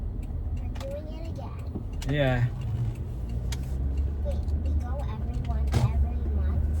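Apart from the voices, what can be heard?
car driving on the road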